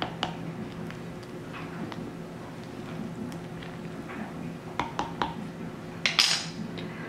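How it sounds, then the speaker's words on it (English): A spoon clinks and scrapes against a pot of homemade beef stew as it is stirred with the lid off, with scattered light metallic knocks that sharpen near the end over a quiet kitchen background. "So now I'll take my lid off. Stir it around."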